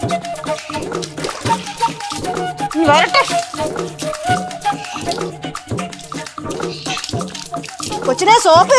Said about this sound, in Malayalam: ശിവചേച്ചി വെള്ളം ഒഴിക്കേ.